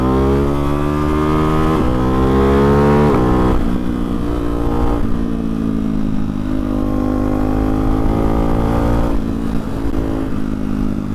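A Hyper 698 S1 motorcycle with an aftermarket exhaust revs hard, its engine note climbing and dropping through several loud, close throttle blips with a steady rumble between them.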